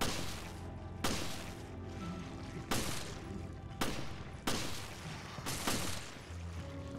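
Gunshots ring out in the survival-horror game Resident Evil Revelations, six sharp, evenly spaced reports roughly one per second, each with a short echoing tail over a low ambient hum.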